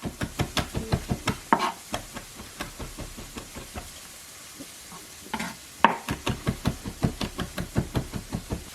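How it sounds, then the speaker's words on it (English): A knife chopping food finely on a board in rapid, regular taps, close and clear, with a brief pause in the middle before the quick rhythm resumes. "I'm going to really chop this up pretty fine."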